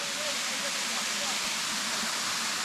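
Thankowain waterfall deep in Alikadam roars in a steady, dense rush of falling water that stays constant and unbroken throughout.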